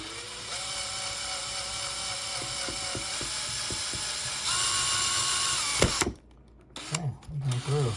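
A power drill whirs steadily for several seconds, pitch rising briefly as it pushes through plastic on a 1984 Hasbro toy wand, then cuts off abruptly followed by light handling noises and a voice.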